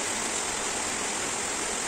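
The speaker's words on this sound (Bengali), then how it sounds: "বাইরে প্রচণ্ড বৃষ্টি হচ্ছে, আপনারা শুনতে পাচ্ছেন বৃষ্টির আওয়াজটা কীভাবে আসছে।" Heavy rain falls outside a home kitchen, a steady, dense, unbroken wash of noise that fills the whole moment with no pauses or voices.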